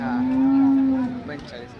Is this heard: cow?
yes